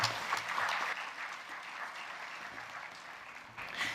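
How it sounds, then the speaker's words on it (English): Conference attendees at a school-culture panel give the panelists a round of applause, steady crowd clapping from many hands that holds for several seconds, fairly quiet and somewhat distant. "A big round of applause for them."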